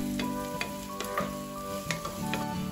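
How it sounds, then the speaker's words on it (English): Onions sautéing in hot oil in a pan for borsch, a steady close sizzle with soft stirring scrapes and light clinks over a few seconds, no talk. "we are going to heat up some oil and drop our onions in there"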